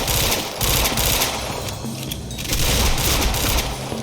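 Bursts of rapid automatic gunfire in Quantum Break, loud and close, with several sustained volleys separated by brief pauses.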